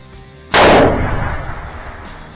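A single loud muzzleloader rifle shot fired at a 500-yard target, a sharp close blast that rolls out into a long echoing decay across open country.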